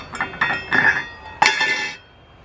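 A metal lid set onto a small pot over a Fancy Feast alcohol stove, several light clinks and scrapes of metal on metal, then one sharper clank as it seats, close and fairly loud.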